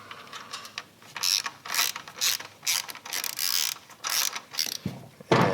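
A ratchet wrench loosening the front motor mount stabilizer bolts on an FXR motorcycle build, a close series of quick ratcheting click bursts in an uneven rhythm, ending with a sharper metallic knock.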